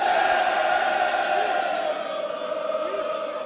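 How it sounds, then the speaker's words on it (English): Crowd of supporters making noise at a school under-19 water polo match between Rondebosch and Bishops, a steady broad roar of many voices with occasional shouts, loud and continuous throughout. "The Rondebosch crowd now also making a bit of noise"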